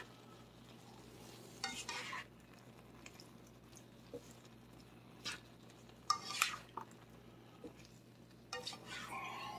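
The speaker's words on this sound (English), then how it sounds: "Stir that around." Chicken with green beans in a pan, stirred in a few short scraping bursts with utensil clinks over a faint low sizzle, quiet overall.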